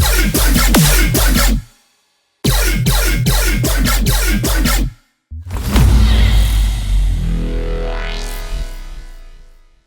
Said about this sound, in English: we are going to be making this really thick, juicy, kind of wonky, rhythmish style dubstep bass in Serum